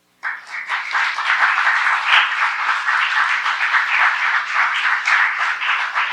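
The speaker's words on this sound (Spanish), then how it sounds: "¿Le puedes dar un fuerte aplauso?" A church congregation bursts into loud, sustained applause during a Spanish-language service, dense clapping from many hands filling the room right after a sudden start and continuing steadily without talk.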